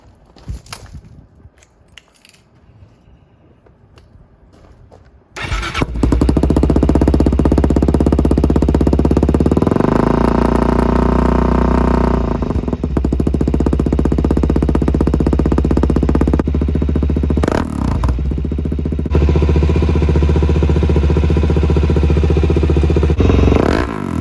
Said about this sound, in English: I'm gonna start it and let it run for a few minutes.